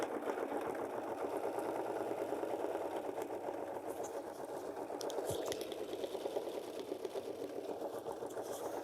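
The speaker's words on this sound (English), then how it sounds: "we can just go ahead and stitch down the seafoam green leather" An embroidery machine stitching down seafoam green leather eye patches, a steady rapid needle chatter with a mechanical hum, close and continuous, broken by a brief clunk midway.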